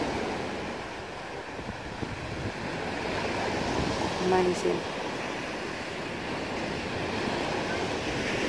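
Ocean waves and surf roll in on a windy winter day, a loud continuous broadband roar with wind buffeting the microphone and a person briefly speaking over it.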